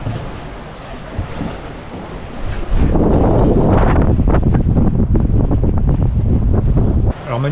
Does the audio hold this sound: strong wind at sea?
yes